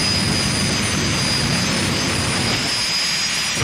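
A drag-racing jet car engine roars steadily at full power before a race, a loud, sustained blast with a high whine over it, easing slightly at the end.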